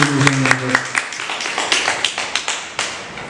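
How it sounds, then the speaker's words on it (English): Scattered hand claps and taps from a small crowd at a live radio podcast event, uneven and thinning out, with a brief voice at the start introducing a speaker. "give Mr. Nash a round of applause as he comes to the"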